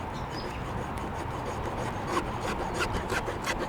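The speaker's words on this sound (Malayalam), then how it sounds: "ഈ വാട്ടർമെലൻ്റെ ഒരു 1/4 ഭാഗം നമുക്ക് കട്ട് ചെയ്തിട്ട് എടുക്കാം" A knife saws through a quarter of a watermelon with steady, close rubbing and scraping strokes, the cutting growing slightly rougher toward the end.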